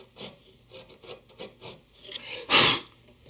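A chisel angled in from the side pares and undercuts a wooden tenon for a trestle table, giving several short soft scraping strokes and then one louder, longer rasping cut near the end.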